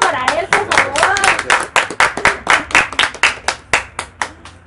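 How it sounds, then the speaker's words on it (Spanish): A studio audience applauds a guest on a talk show, with a voice speaking over the start, then separate close claps slowing into a rhythmic pattern. "Y un aplauso para él, por favor."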